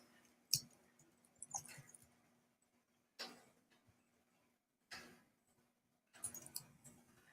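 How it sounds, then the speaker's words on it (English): A computer mouse clicks slowly on a quiet desk while naming files in photo software, a handful of separate close clicks and taps spaced a second or more apart, with no talking. "So make sure you're slow clicking."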